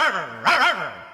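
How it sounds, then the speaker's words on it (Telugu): A dog in a Telugu movie scene gives a short whining yelp followed by a louder bark-like cry, close and clear with no talking. "ఏంటే కుక్క అట్టా సొస్తున్నావు?"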